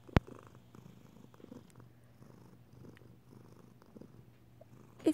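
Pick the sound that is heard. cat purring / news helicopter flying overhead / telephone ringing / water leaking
cat purring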